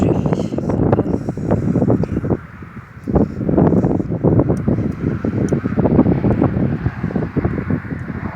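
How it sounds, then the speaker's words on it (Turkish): Steady wind with light rain buffets the microphone throughout, a broad rushing roar with gusty swells beneath continuous talking. "Ufaktan da rüzgarla yağmur atıştı."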